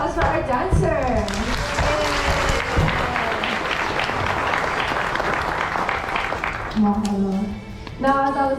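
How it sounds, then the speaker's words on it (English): Loud, dense applause from a crowd at a Polynesian cultural show in Hawaii after a dancer's performance, with voices and cheering mixed in, and a speaker's voice breaking through near the end. "A round of applause for our dancer."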